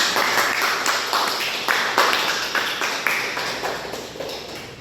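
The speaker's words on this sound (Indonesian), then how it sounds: "Tepuk tangan untuk kita semua" Attendees at a community health outreach session applaud, steady moderately faint clapping with rhythmic accents filling the room throughout.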